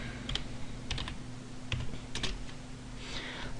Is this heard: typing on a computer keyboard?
yes